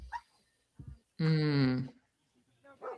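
A search and rescue Labrador gives one loud, close bark lasting over half a second, with brief talk before and after it.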